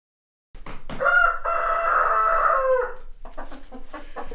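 A rooster crows loudly and close by in a barn stall, one long drawn-out call, and chickens follow with a run of clucks.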